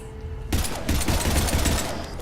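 Pistol fire in the video game Mass Effect 3, a dense, loud barrage of rapid shots that begins abruptly after a quiet hum and continues steadily.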